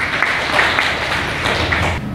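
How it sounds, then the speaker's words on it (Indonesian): A classroom of students applauding a discussion group, brisk clapping with scattered sharper claps throughout, fairly close and loud, with no talking over it. "Beri tepuk tangan untuk kelompok ini."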